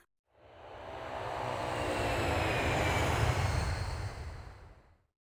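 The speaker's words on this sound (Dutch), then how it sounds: "Ja, piloot Blinky past bij een vliegtuig" Airplane sound effect from the 1999 PC game Blinky Bill Peuter, a smooth engine roar that fades in, swells to a broad steady rumble and fades out over about five seconds, with no talk.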